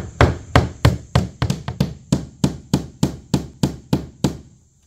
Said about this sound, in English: So try to nail into a stud.